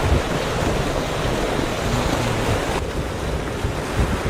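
Ocean waves surge and wash steadily on the open sea during a long boat journey at night, a loud continuous roar of surf with wind buffeting the microphone and no voices.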